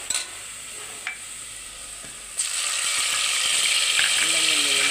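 Sliced onions sizzle in hot oil in a pot, a steady, close hiss that grows louder partway through, with a few soft clinks of a utensil.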